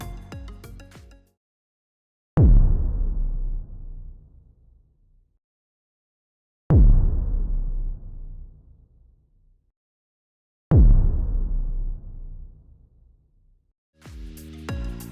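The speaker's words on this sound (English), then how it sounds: "I also added a trigger to play the footsteps audio." Footsteps for a character in a Siren Head game prototype: three heavy, booming thuds a few seconds apart, each decaying slowly into silence, with brief other sounds at the start and end.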